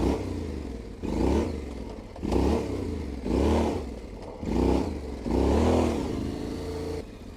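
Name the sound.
adventure motorcycle sliding rear wheel in controlled drift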